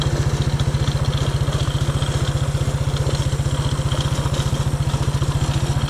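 A motorcycle fitted with a swapped Honda CRF230 engine putters steadily in first gear with no throttle, its low, even exhaust thump pulsing close and continuous across the gravel pit setting.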